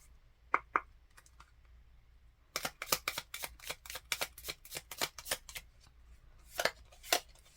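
Tarot cards being shuffled and drawn close up: a couple of isolated card flicks, then a quick run of crisp riffling snaps and a few final slaps, faint and without talking.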